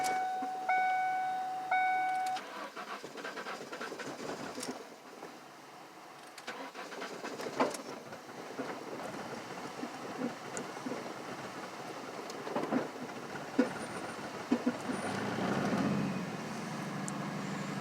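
A 1998 Ford Mustang engine cranks over after some chiming, then catches and runs with a rough, uneven rumble and scattered clicks, no voices heard.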